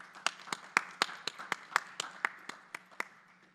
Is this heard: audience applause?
yes